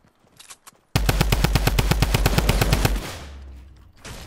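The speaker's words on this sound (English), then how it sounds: "I have a drum gun." A drum gun in Fortnite unloads a rapid burst of about twenty evenly spaced loud shots lasting two seconds, preceded by a faint short burst and followed by a fading rumble.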